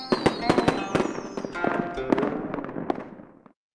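Fireworks and firecrackers pop and crackle in rapid irregular bursts, loud and close, with whistling streaks and a fading crackle at the end; used as a sound effect in an English lesson about Chinese New Year.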